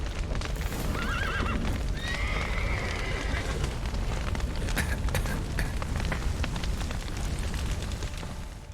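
Several horses whinny and neigh amid crackling fire and a dense, rumbling soundscape in The Witcher 3: Wild Hunt, with hoof clatter mixed in.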